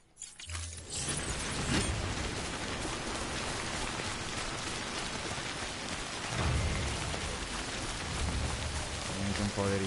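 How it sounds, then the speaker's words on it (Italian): Heavy rain pours steadily in the video game Death Stranding, a dense constant hiss with occasional low rumbles, while a voice talks faintly underneath. "Un po' di riparo dalla pioggia"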